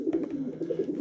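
German pigeons of Ardennes stock coo steadily in a loft, a low rolling warble repeating in soft pulses close by, with no voices.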